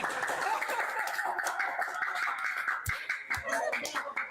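Friends clap together at a casual get-together, a quick patter of claps at moderate level with lively chatter and voices woven throughout.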